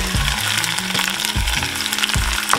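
Pineapple drops into a hot pan and sizzles loudly, a steady frying hiss with a few soft stirring clunks throughout, close and alone without any voices.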